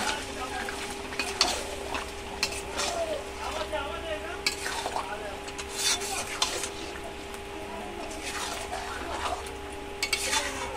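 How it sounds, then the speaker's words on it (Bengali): Riyaji mutton being sautéed with spices in a pan, with a steady sizzle and frequent scraping strokes of a spoon stirring against the metal. "এই যে ভালো করে আমি কষিয়ে নিচ্ছি"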